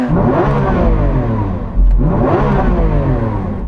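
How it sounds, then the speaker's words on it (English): A Lamborghini Aventador SVJ's engine revs hard and close in two loud, deep surges with a short dip between them. "So I'm going to rev up this SVJ."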